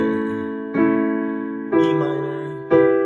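Piano chords from the chorus of a song ring out alone, close and clear: four chords are struck at an even pace, and each sustains and fades before the next.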